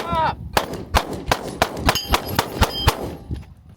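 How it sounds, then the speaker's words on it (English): A rapid string of about nine gunshots, each ending in a sharp metallic clang as rounds strike a steel target during one-handed tactical shooting practice, loud and close with a brief cry at the start. "So I'm gonna be shooting with this hand."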